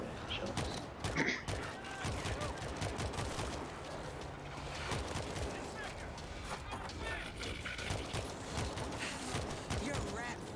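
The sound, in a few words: gunshots in a video game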